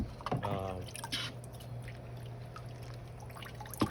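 Water splashes and drips while a potted Hoya carnosa plant is watered, a short pouring burst followed by scattered faint drips against a quiet indoor background.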